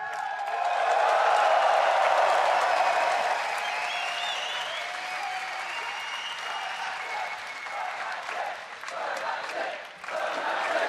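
A large arena crowd cheers and applauds at an esports world championship quarterfinal, a dense sustained roar that swells loud early and then slowly eases, with no one speaking clearly over it.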